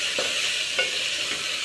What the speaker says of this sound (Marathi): हे छानपैकी असं सारखं परतत राहायचं, म्हणजे सगळी जो मसाला आहे तो छानपैकी भाजला जातो किंवा तळला जातो.